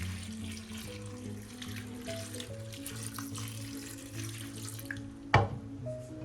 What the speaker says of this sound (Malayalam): ഇനി നമുക്കിതിലേക്ക് ഇത് വേവാൻ ആവശ്യമുള്ള വെള്ളം